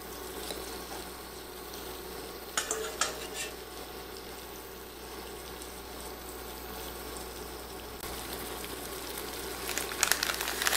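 Cheesy chicken quesadillas cooking in a cast iron grill pan on an induction cooktop, a steady soft sizzle with occasional light scrapes and clinks of utensils against the pan.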